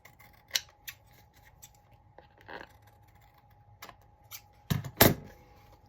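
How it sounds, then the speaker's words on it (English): Scissors snip through excess paper around a collaged postcard for a journal, in separate crisp cuts with pauses between them and a quick double snip near the end, close and fairly loud with no talking. "And I'll just trim the excess paper away."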